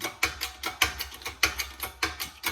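An Eastwood press brake bending 1/8 inch metal, giving a fast run of sharp ratcheting mechanical clicks in an even rhythm, close and fairly loud, with no voices.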